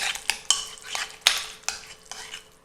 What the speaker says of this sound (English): It got thick, which is fine, just stir it on up.